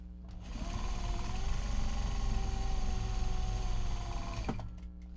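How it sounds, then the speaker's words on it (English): A sewing machine runs in one continuous, steady stretch of about four seconds, close and fairly loud, stitching a handle onto a Japanese fabric project bag. A faint click follows as it stops. "Now we're going to sew the handle into the bag."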